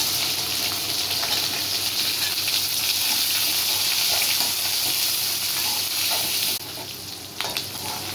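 Small onions and garlic fry in hot oil for a Tamil karunai kizhangu kara kuzhambu, giving a loud, dense, continuous sizzle that drops slightly near the end, with no talking.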